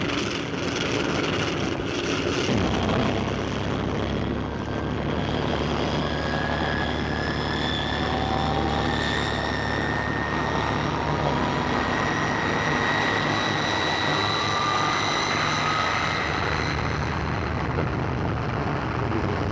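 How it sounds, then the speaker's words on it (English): A 1956 propeller airliner taking off, its engines roaring loud and steady from inside the cabin, rising tones sweeping upward as power builds over a continuous broadband drone. "We're about to take off now."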